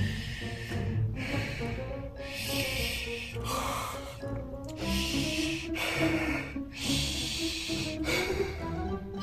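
A storyteller imitates a creature's heavy panting with loud close rhythmic breaths, harsh and raspy, in repeated bursts of about six puffs.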